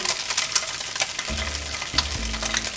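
Tofu sizzles in hot oil over medium heat, a close, steady hiss and crackle with soft low thumps as pieces drop into the pan.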